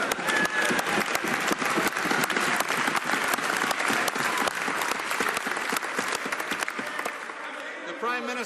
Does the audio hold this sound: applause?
yes